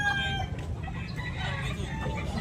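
A green-legged lemon sweater gamecock about two years old crows and clucks close by at a market, loud and continuous over a noisy crowd background.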